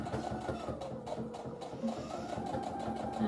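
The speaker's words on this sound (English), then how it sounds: "I'm just going to top stitch there" A domestic sewing machine runs top stitching along a seam while making a fabric basket of chicks and dinosaurs, a quick, steady mechanical whirr that continues without a break, fairly soft and close.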